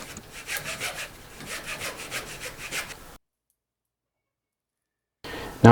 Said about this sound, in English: I'm going to hacksaw further down so that way it's cut through the wood all the way through